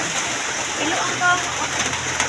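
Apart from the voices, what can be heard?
rain falling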